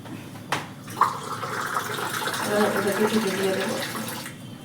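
Water runs steadily into a drinking glass or cup for a few seconds after a couple of brief knocks, and the stream rises gradually in pitch as the vessel fills. The pour sounds close by.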